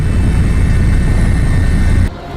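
A helicopter flies over a flood-damaged disaster area in Aceh, a loud, steady rotor and engine roar that holds constant before dropping off abruptly near the end.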